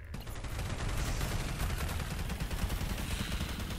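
Two players in Lethal Company firing guns together at a mimic, a dense rapid stream of shots running continuously for a few seconds, moderately loud and steady with no talk.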